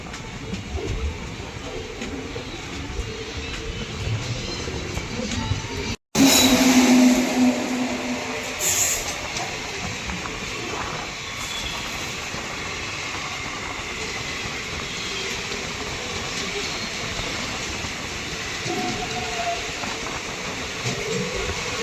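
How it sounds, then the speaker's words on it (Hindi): The VGL Jhansi Etawah Intercity Express rolls through a curve in the dark, heard from on board as a loud continuous rumble of wheels and carriage noise after a brief dropout, with occasional faint squeals and knocks. "अपनी ट्रेन अच्छा खासा कर्व ले रही है"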